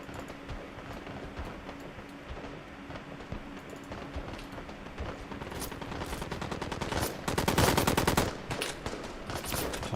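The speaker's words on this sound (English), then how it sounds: "An RPK you've got." Automatic gunfire from an RPK light machine gun in a combat video game, bursts growing denser and louder toward the middle and end over a steady low background hum.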